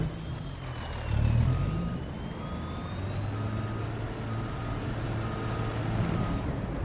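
A truck driving in Farming Simulator 25 on the Lone Star Plains map, its engine droning steadily throughout, with a louder surge near the start and a rising whine layered over the constant rumble.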